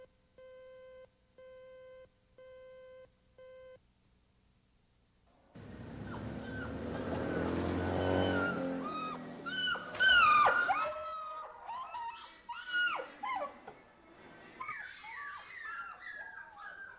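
Dogs in the cages of the Oklahoma City Animal Shelter whimper and yip in high, bending cries that overlap in uneven bursts, after a few steady electronic beeps at the start.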